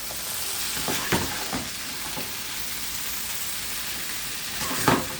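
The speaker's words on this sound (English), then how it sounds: "You can start stirring it. Get some of that squash down at the bottom." Vegan frankfurter hash with squash and potato sizzling steadily in a pan, with a few soft scraping strokes as it is stirred, close and continuous with no talking.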